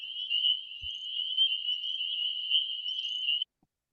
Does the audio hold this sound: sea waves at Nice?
no